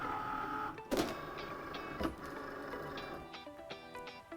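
Cricut Maker cutting machine pulling in a mat after the load button is pressed, a close mechanical whir with two sharp clicks near the start and middle, followed by a steady motor hum and faint ticking.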